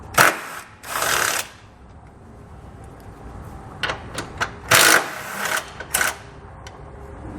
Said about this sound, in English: we'll pull those out using an 18mm socket